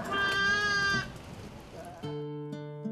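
Sheep bleat at a ranch shearing demonstration, with two long, close calls, a short quieter gap and then a steady, lower bleat continuing to the end.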